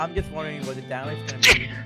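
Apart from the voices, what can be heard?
sneeze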